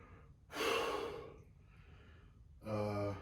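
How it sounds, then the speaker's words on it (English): A person breathes heavily after a home-gym workout, with two loud, close, gasping breaths separated by a quieter exhale in a quiet room. "I'm out of breath"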